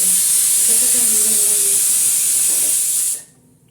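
A loud, steady hiss of steam escaping a pressure cooker cooking potato and aubergine, continuous for about three seconds before cutting off abruptly into quiet.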